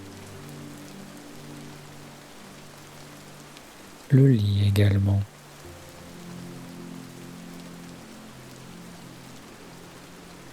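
Steady rain falls in a continuous soft hiss through the whole stretch, calm and even, with a brief voice speaking over it partway through.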